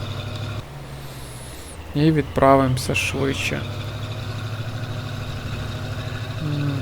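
A truck in the farming game Farming Simulator 22 runs with a steady low engine drone, joined by brief hissing and mechanical squeals partway through, while someone talks over it.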